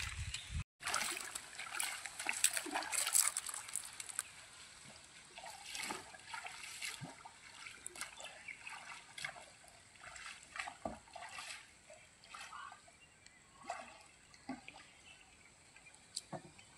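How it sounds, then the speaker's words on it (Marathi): Water splashes and trickles around a small boat on a river, forming an uneven run of close, irregular sloshes and drips with no talking. "आता छान आपण बोटिंग करूया मस्त"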